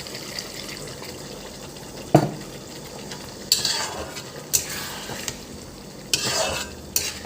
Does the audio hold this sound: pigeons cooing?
no